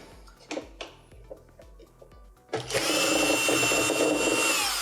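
Electric screwdriver unscrewing a screw on a Philips/Saeco coffee machine, several short ticking clicks followed by a loud, sustained high whirring motor buzz close by.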